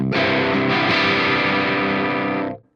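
An electric guitar is picked hard through a Joyo Bantamp Meteor II tube amp with the gain turned all the way up. It gives a loud, heavily saturated chug that rings steadily for over two seconds before quickly dying away.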